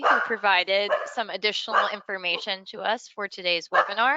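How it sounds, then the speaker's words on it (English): A pet spaniel barks several times at home, short yaps mixed beneath someone speaking close to the microphone during an online webinar. "I apologize for my spaniel barking."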